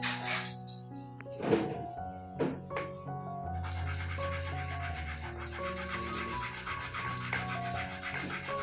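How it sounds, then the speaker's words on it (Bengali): Sandalwood paste is ground on a stone during preparations for a Lakshmi puja on Ras Purnima, a few rough rubbing scrapes heard close up over a background of tonal music. "চন্দন বেটে নিচ্ছি।"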